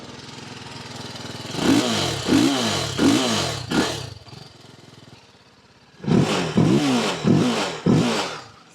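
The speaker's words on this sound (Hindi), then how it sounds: "सो मैं आपको ना एग्जॉस्ट साउंड सुनाता हूँ।" A TVS Apache RR310 motorcycle revs its exhaust in two bursts of sharp, repeated throttle blips, each rising and falling quickly. A brief idle separates the bursts, and no one speaks.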